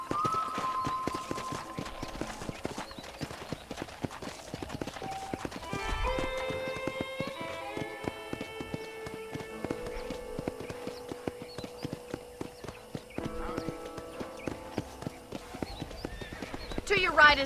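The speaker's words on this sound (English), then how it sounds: "I picked out a fine horse for you. Giddy up!" Horse hooves clip-clopping at a run with a whinny in Red Dead Redemption, steady hoofbeats under game music and a voice talking throughout, with a louder burst near the end.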